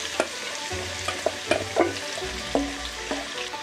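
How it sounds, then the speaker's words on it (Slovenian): Sliced pumpkin frying in melted butter in a small pan, with a steady sizzle broken by several scraping stirs of a utensil against the pan, close and fairly loud, with no voices. "V ponvici stopimo maslo. Vanjo dodamo narezano bučo."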